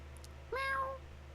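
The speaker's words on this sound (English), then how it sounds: "I ran out of meow sounds." A single short, clear cat meow in the game Last Word rises and falls, heard alone against a quiet background.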